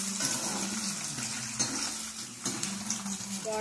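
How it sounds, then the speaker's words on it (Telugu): Mustard and other tempering seeds fry in hot oil with dried and green chilies for mango pulihora, a soft, steady sizzle with occasional light clinks of a spoon against the pan, heard close and without talk. "ఇదిగోండి మొత్తం ఇవన్నీ కలిపి వేయించుకుందాం"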